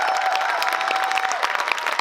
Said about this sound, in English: Students, please give a huge round of applause.